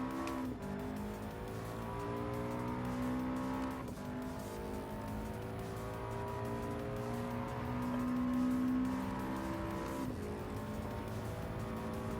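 A race car in Gran Turismo 7 drones at high revs, with its engine pitch dropping sharply at quick downshifts; the engine note stays loud and continuous throughout, with no voices.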